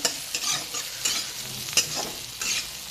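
A spoon scrapes and stirs spicy eggplant masala with sesame seeds in a hot pan, several rhythmic strokes over a steady sizzle of frying, close and clear with no talking.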